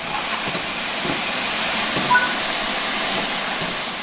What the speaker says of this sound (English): Open the cylinder cocks to remove any.